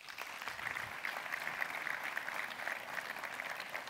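Audience applause at an Archipro trade show in Ciney Expo, a soft, distant, steady patter of clapping holding throughout.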